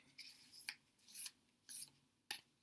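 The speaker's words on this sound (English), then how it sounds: "And then I just shuffle a few more times until I feel it's right." Oracle cards being shuffled by hand at a quiet table: a few brief papery riffles and slides in separate bursts, soft and close, with short pauses between and no talking.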